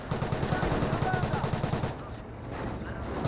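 Rapid machine-gun fire rattles in a World War II strategy game battle, a fast rhythmic burst of shots that runs for about two seconds before thinning into scattered reports.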